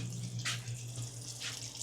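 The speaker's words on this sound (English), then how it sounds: "So I'm going to turn this off, and then I will shut all the waters off." Water running from a tap in an RV fixture, a faint steady flow with a couple of brief splashy surges as it is turned off, heard up close with a low background hum and no talking.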